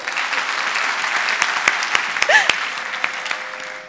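An audience at a Marathi stage performance applauding, a dense burst of clapping from a hall crowd with a few sharper individual claps standing out, swelling and then tapering over a few seconds.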